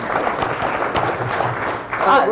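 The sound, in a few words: applause, clapping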